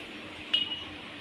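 A kadai (wok) is set down on a kitchen stove with a single short metallic clink against quiet background hiss.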